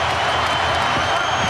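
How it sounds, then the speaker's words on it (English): A dense basketball arena crowd roars for the Minnesota Timberwolves during a 2004 NBA playoff game against the Nuggets, with a broad, continuous wash of cheering and applause that stays loud throughout. "the crowd comes to life for the Wolves"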